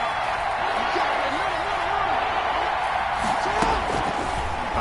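Stadium crowd cheering and roaring in an American football video game ahead of a big third down, a dense sustained wash of noise with commentary voices underneath.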